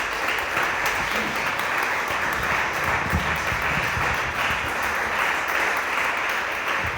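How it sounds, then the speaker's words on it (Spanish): Congregation in a church gives a dense, steady round of applause for the full stretch, loud and close, with no talking over it. "Dale un aplauso a Jesucristo, bien se lo merece."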